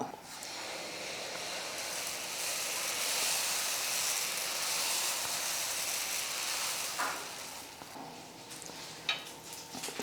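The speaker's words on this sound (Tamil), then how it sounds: "தோசைக்கல் நல்லா காஞ்சிடுச்சு. இப்போ தோசை ஊற்றிக்கலாம்." Dosa batter spreading across a well-heated griddle gives a steady, fairly loud broadband sizzle and hiss that holds for most of the stretch, easing near the end with a couple of small clicks.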